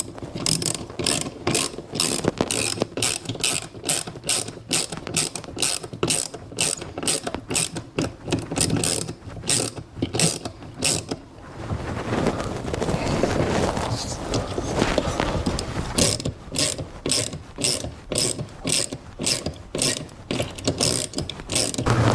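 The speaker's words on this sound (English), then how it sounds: "This is a Gearwrench ratchet that I'm using" A Gearwrench ratchet tightens a TV wall mount bolt into wood with rapid, steady clicking bursts, briefly broken by a stretch of denser grinding before the even ratcheting resumes, loud and close.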